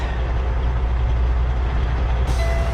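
Truck lurching forward with its brakes applied while hitched to a trailer, giving a steady loud low engine rumble and mechanical drone throughout, with a brief hiss near the end.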